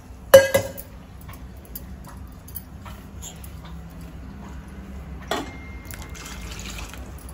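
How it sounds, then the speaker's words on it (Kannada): Water splashes into a pot holding jaggery and grated coconut, beginning with a sharp clink and splash, then a soft trickle and drip. A second clink follows midway through, with the sound close and no one speaking. "ಸ್ವಲ್ಪ ನೀರು ಸೇರಿಸ್ಕೊತಾ ಇದ್ದೀನಿ"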